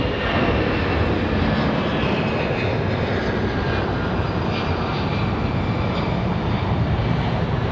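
A heavily loaded airliner departs from Raleigh-Durham International Airport, its jet engines producing a loud, continuous roar that holds steady throughout, close by and without any voices.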